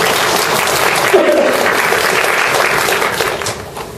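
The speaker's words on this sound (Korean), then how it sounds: "근데 자매님들이 아마 박수를 많이 쳐줄 것 같아요" Audience applause during a missionary's lecture, a dense, loud, sustained clapping that fills the whole stretch and begins to thin out toward the end.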